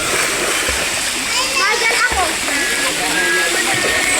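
Water splashes and sloshes steadily as a family swims in a river, a loud continuous wash with children's voices and chatter mixed in throughout.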